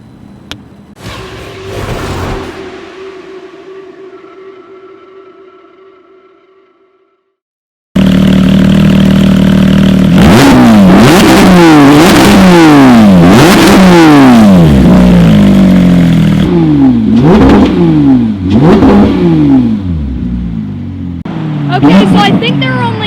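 Two lizard green Porsche GT3RS cars are started and idled, then rev and accelerate hard. Repeated rising-and-falling engine wails come up close and very loud, with a short quiet gap before the revving.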